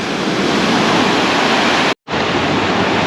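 Ocean waves wash steadily onto a beach beside a built wave barrier in Mui Ne before dawn, a loud continuous roar of surf with a brief dropout in the middle.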